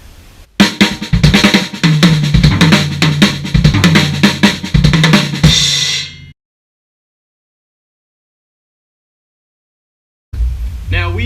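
Drum kit playing the RLRLLK lick, right-left-right-left-left-kick, first as written and then rhythmically displaced before settling back into the pattern; a loud, busy run of strokes for about six seconds, then silence, then the groove briefly resumes.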